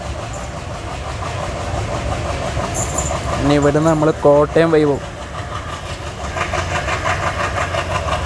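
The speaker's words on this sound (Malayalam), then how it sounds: "കായംകുളം ജംഗ്ഷനിൽ ട്രെയിൻ ഡിപ്പാർട്ട് ചെയ്തിട്ടാ" An ALCO diesel locomotive hauls a train out of Kayamkulam Junction, its steady rumble and engine drone running throughout while someone speaks briefly over it partway through.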